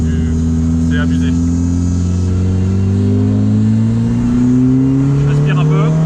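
A Renault Clio RS race car engine accelerates hard, its loud droning tone climbing steadily in pitch as it pulls, heard close from inside with faint voices underneath.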